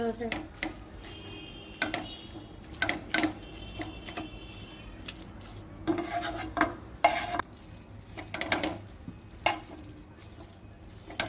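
Hakka noodles are stirred and tossed in a pan with a spatula, making irregular scraping and clattering against the metal over a soft background sizzle.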